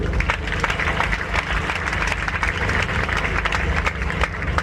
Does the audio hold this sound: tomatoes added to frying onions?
no